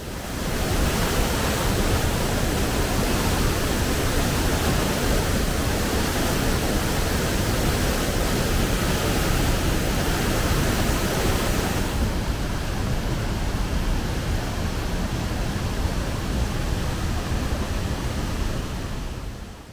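Water from a mountain spring near Hajij village, Kermanshah, Iran, rushes steadily and loudly, a dense continuous flow close by, easing slightly toward the end.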